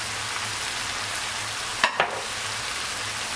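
A spiced mixture with salt, black pepper and chili flakes sautéing in a pan, giving a steady soft frying hiss with two quick stirring scrapes near the middle.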